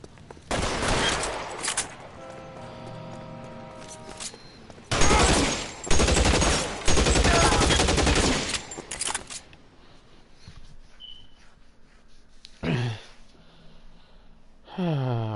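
Video game gunfire from an M1 Garand rifle: loud bursts of shots in clusters with gaps between them, a few later single cracks, and game sound effects in the background.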